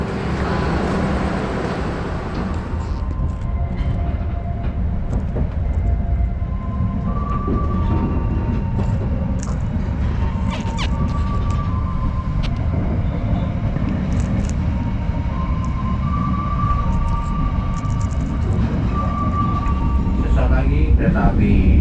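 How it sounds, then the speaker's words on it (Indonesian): Serayu passenger train arriving at Cikampek station in Karawang, West Java, a loud continuous low rumble of wheels and engine with faint tonal squeals and clanks over the top, steady throughout. "kereta api Serayu sekarang ini sudah tiba di stasiun Cikampek"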